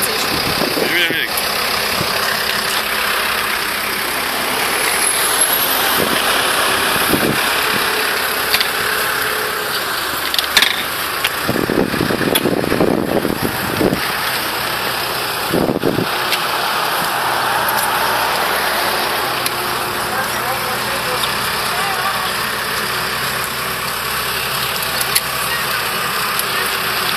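A car engine idles steadily throughout, a continuous low rumble with light rain-like hiss and occasional bumps, while people talk nearby at intervals.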